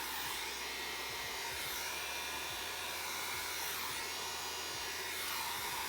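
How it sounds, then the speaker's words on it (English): A heat tool blows steadily and loudly throughout, a constant rushing hiss of hot air used to push and dry alcohol ink on card stock, with no talking. "you just use your heat tool to move that ink around a little bit"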